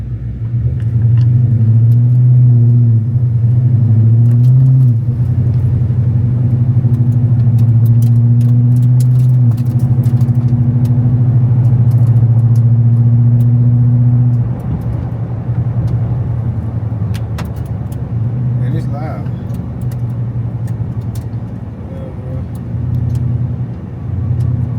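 A Dodge Magnum's engine rumbles deep and loud from inside the car while driving, a steady low drone that eases off about halfway through.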